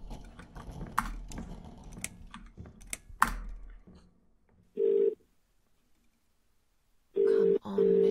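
Dialing a phone in The Cat Lady video game: rapid key taps, then two steady electronic ringback tones, one short and one longer, each followed by quiet.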